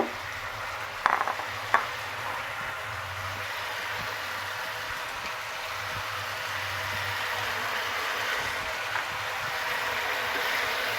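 Gravy simmering and sizzling in a pan on a gas stove in a home kitchen, a soft steady hiss with low bubbling underneath and a couple of brief clinks near the start.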